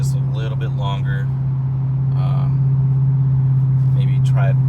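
A 2015 Hyundai Genesis 5.0 V8 with its muffler deleted drones steadily at highway speed, a loud, constant low exhaust hum under someone talking throughout.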